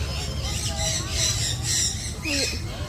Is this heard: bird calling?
yes